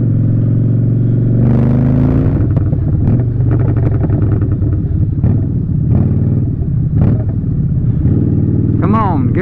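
A motorcycle moves through traffic, its engine note rising and falling up close among other vehicle noise, with a few clattering bumps and a brief squeal near the end.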